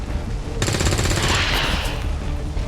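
Rapid automatic gunfire in the video game XCOM 2: War of the Chosen, a dense, loud burst of overlapping shots lasting about a second and a half over a steady background rumble.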